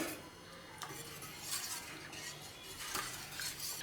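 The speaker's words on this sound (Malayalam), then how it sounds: "ഒന്ന് മിക്സ് ചെയ്ത് നോക്കാം നമുക്ക്." Rava dosa batter is stirred in a bowl with a spoon, giving soft wet swishes and a few light clinks against the bowl rim, fairly close and steady with no talking.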